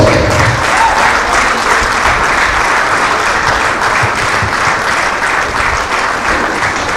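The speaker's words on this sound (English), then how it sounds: "A round of applause." Loud, sustained applause fills an indoor cricket venue in the UAE for a managing director, a dense unbroken wash of clapping lasting several seconds.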